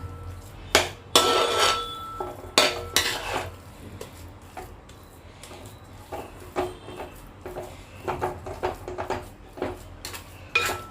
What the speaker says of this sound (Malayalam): അപ്പം നെയ്യ് ചേർത്ത് നല്ലതുപോലെ ഇളക്കിയെടുക്കാം.